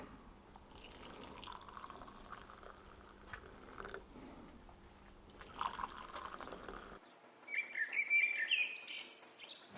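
Faint bird chirps and tweets in a quiet outdoor setting, with soft dripping sounds; the chirping grows a bit clearer and more frequent toward the end.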